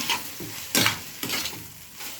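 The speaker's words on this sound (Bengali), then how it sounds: "পকোড়াগুলো দেওয়া গেছে, এবার আমি ভালো করে নাড়বো" Fried pakoras are stirred into chili sauce in a pan for chili soybean, with bursts of sizzling and scraping spatula strokes coming in a few uneven pulses over a quiet background.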